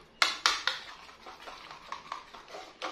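Loaded fries with chili sauce being stirred in a pan, a utensil clinking and scraping against the metal in a quick run of taps that soften into lighter, irregular scrapes, close and without talk.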